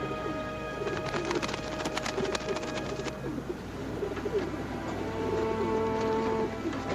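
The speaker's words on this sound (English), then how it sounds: "Talks to those pigeons like they were people." Pigeons coo softly and repeatedly in an outdoor setting, their low calls threaded through a steady rain-like patter and background noise.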